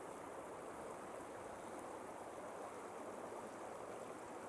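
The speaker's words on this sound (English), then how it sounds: "nice little stream flowing down there. Water's still up a little bit, so it's fast moving" A fast-moving stream in a state park, running high after recent water, gives a steady broadband rush of flowing water, continuous and fairly close with no other sounds.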